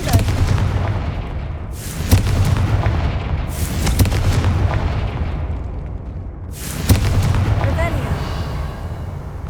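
Repeated loud fire-spell blasts from Hogwarts Legacy, four heavy booming explosions at roughly two-second intervals, each a sharp broadband burst that rolls off into a rumbling decay.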